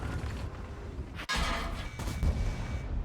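A tank cannon fires in a video game, a sharp heavy blast cutting through a constant engine rumble, followed by a rolling boom and a second, softer impact.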